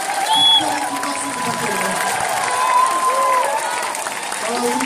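Applause from an audience at a book launch event, a brief burst of clapping and crowd noise with voices mixed in throughout.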